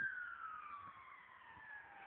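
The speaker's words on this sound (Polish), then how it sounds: "Oho, karetka, kurde." An ambulance siren wails, sweeping steadily downward in pitch, loud and continuous, as it passes nearby.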